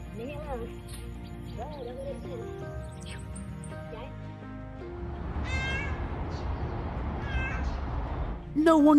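A cat meows repeatedly during a rescue, rising, wavering cries coming through over steady background noise and a narrating voice.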